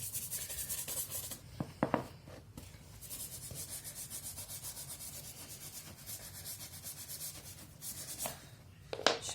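A cloth scrubs a cleat stain on a shoe with Cif cream cleaner in repeated close, rough rubbing strokes. Brief pauses and a few louder scuffs break the steady friction.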